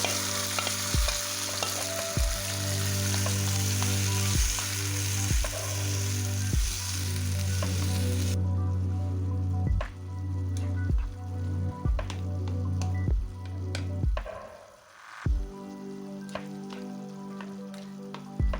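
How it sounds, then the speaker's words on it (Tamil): Tomatoes sizzle and fry in hot ghee, with a steady crackle under regular clinks and knocks of stirring; the sizzle quiets partway through. "அதே நெய்யில் நம்ம தக்காளி போட்டுக்கலாம்."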